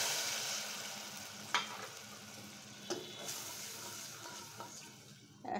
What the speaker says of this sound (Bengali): আমি এখন পরিমাণ মতো ঝোলের জন্য পানি দিয়ে দিচ্ছি